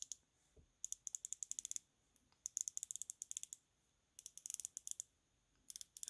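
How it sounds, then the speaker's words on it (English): A 120-click Squale 1545 diver's watch bezel being turned, quiet close-up bursts of rapid, evenly spaced ratcheting clicks separated by short pauses. "So 120 click bezel. Let's test that out."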